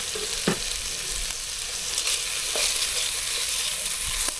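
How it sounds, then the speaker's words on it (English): Bacon sizzles steadily in a pan with a hunk of Kerrygold butter, a constant bright crackle broken by a few soft clinks and stirs, close and moderately loud with no talk. "To my bacon, I'm going to add a nice old hunk of Kerrygold butter."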